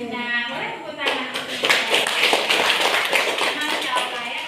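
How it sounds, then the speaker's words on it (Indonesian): A classroom of pupils claps their hands together, a dense burst of claps rising about a second in and continuing steadily to the end, with children's voices mixed in. "Boleh tepuk tangan"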